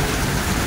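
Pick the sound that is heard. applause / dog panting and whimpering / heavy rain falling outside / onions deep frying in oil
heavy rain falling outside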